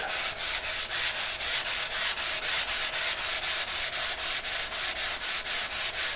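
Steady back-and-forth sanding of the top of a wooden urn, rhythmic rasping strokes repeating about three times a second, close and continuous with no talking.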